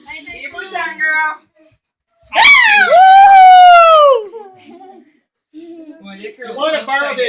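A dog howls in a close, loud, rising and falling tonal wail, with whiny vocal sounds before and after it.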